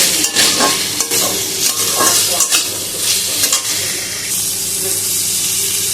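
Marinated chicken sizzles and hisses in a hot pan while being stirred, with repeated scraping strokes over a steady frying background, loud and close, no talking.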